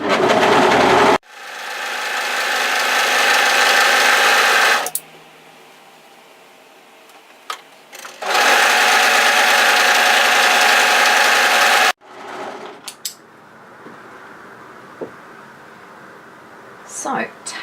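A sewing machine stitches the cuff of a hoodie sleeve in two loud, steady bursts of a few seconds each, with quieter pauses between them and talk in the pauses.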